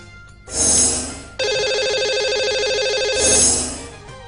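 A telephone rings as a radio show dials out to a caller, with two swelling ring bursts around a steady tonal ringback pattern, loud and clear with no talk.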